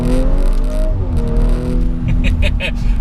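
An ABT-tuned Audi RS5 Sportback's exhaust rises and falls through a loud, close rev with a rumbling low drone, while someone talks over it.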